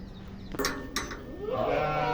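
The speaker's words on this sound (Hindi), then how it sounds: "यहाँ पे छोटा बच्चा बैठा हुआ है भेड़ का" A young lamb bleats once, a wavering cry rising over farmyard clatter and background noise on a goat farm.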